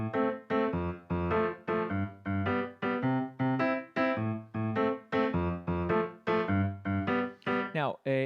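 A piano plays a bouncy, evenly pulsed pattern of short repeated chords, close and clear, with no talking over it.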